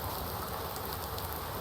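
Steady dense rainfall in Farming Simulator 19 on a farm map, an even hiss of drops on surfaces heard alone throughout.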